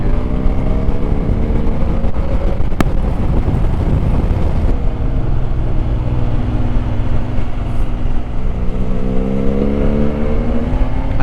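A BMW GS motorcycle fitted with an aftermarket Akrapovic exhaust rides along a winding road, its engine note rising and falling through rev changes with a raspy drone and wind buffeting the microphone.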